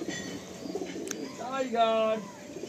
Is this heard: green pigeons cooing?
yes